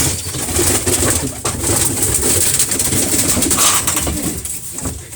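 Pigeons coo softly and repeatedly in a close, busy chorus inside a coop, with low burbling calls overlapping over a constant background hum.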